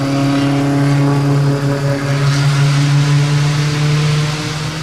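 The 5.0-liter V8 of a 2015 Ford Mustang GT Premium 50th Year Limited Edition runs steadily and loudly up close, a smooth, even droning hum with no pauses.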